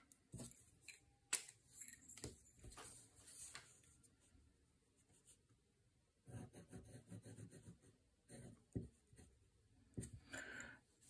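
An aluminium Muji fountain pen scratches across paper in quiet, close bursts of short strokes separated by pauses.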